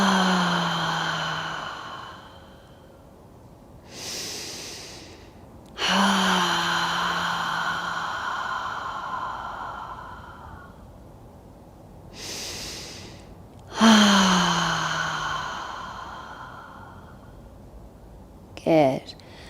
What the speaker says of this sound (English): we're going to do the heart breath